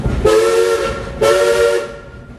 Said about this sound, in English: that was only 2 toots on the whistle